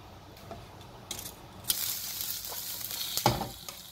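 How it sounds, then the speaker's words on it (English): Onion rings pan frying in cooking oil for a Filipino-style pork belly dish, a soft steady sizzle with a few brief louder crackles and utensil clicks, no talking. "So after we pan fry the onion rings"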